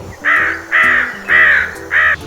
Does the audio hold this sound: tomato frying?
no